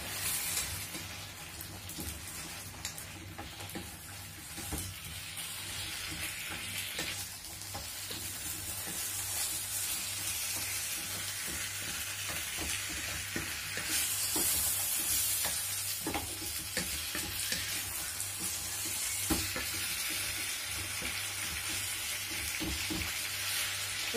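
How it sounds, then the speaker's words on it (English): Gizzard and fried plantain (dodo) are stirred together in a pan, a steady sizzle broken by repeated scraping and clinking utensil strokes, close and moderately loud, with no voices. "And we stir together."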